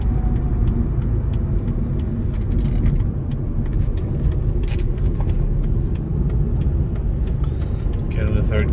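Inside a 2011 Volvo C30 R with a manual gearbox cruising on a highway while the driver shifts into third: steady low road rumble and engine drone, with a person talking over it.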